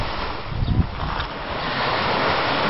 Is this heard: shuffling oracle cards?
no